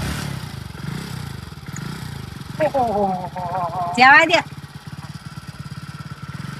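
A motorcycle ridden with two aboard, its engine running steadily under lively talk between a man and a woman, with a brief rising rev or scrape partway through.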